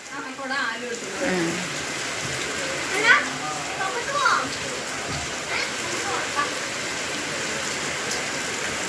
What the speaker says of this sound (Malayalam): നല്ല മഴയായി.